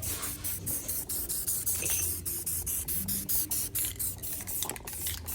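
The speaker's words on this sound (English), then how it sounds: "spray paint dries very quickly, especially in the sun" A spray paint can hisses out black paint for wet-on-wet painting, in a rapid series of short, loud, close bursts with brief gaps between them and no voices.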